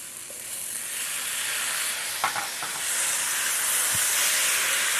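Tomatoes with about a teaspoon of tamari sizzle and hiss steadily in a skillet, a broad continuous fry with a few brief clinks of stirring partway through.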